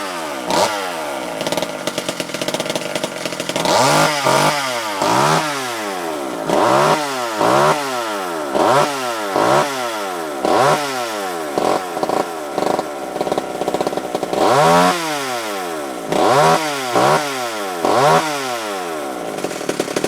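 A vintage McCulloch Mini Mac 35 chainsaw with a sticking clutch starts and runs, its small two-stroke engine revving up and down in repeated loud bursts over a rough idle, close by.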